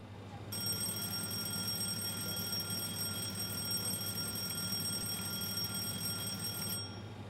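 Fire test alarm in the cockpit of the JustFlight Avro RJ in Microsoft Flight Simulator 2020: a continuous high electronic ringing that starts abruptly, holds for about six seconds, then cuts off over a low cockpit hum.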